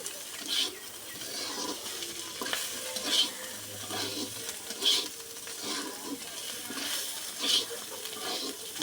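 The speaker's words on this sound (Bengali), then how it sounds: "আলু ভাজা দেখেন কত সুন্দর হচ্ছে।" Potatoes and kakrol (teasel gourd) sizzling as they fry in a pan, with a steady hiss broken by four sharp scraping stirs spaced a few seconds apart, close and fairly loud.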